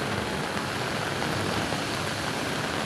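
Heavy rain pours down steadily near the Marikina River during a flood alarm, a dense, loud, unbroken hiss that fills the whole stretch with no talk over it.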